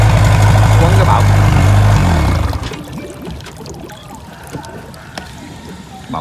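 A 5.4 m assembled motorboat with a Mitsubishi 4D56 engine and intercooled intake on a test run: a loud, steady low engine drone for about two and a half seconds, then it drops away to quieter water and background sounds.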